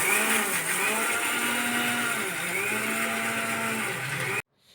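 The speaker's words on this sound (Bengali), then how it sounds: "টেলে নেওয়া উপকরণগুলো মিক্সিতে পেস্ট করে" A mixer grinder whirs loud and close as it blends roasted black cumin, dry chilli and garlic into paste, its motor whine wavering slightly before cutting off abruptly near the end.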